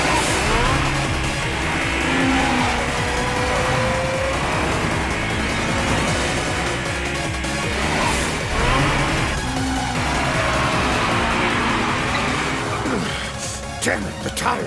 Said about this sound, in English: But the GTR can't continue to drift like this.